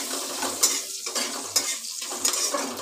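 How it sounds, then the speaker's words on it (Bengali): Chopped onion frying in oil for a Bengali egg dish, a dense, close hiss of sizzling with a few scraping stirs against the pan. "পেঁয়াজটাকে আমি একটু লাল লাল করে ভেজে নেব।"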